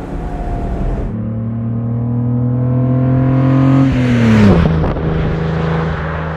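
A 1956 Mercedes 300 SL Gullwing engine with sidepipes hums and revs up with a rising, steady drone while driving, loud and close, then eases off as the pitch drops.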